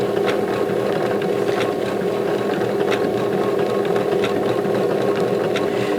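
A sewing machine stitching applique on a quilted table runner, running in a fast steady whir of close, even stitching, alone and loud.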